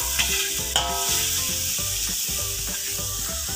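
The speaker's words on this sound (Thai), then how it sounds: "ผัดให้หมูของเราสุกเลยนะครับ" Sliced pork stir-fries with fried garlic in a pan for red-sauce fried rice. A loud, close sizzle sits under repeated clattering scrapes from a spatula, and no one talks.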